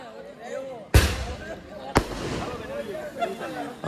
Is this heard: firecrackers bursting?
yes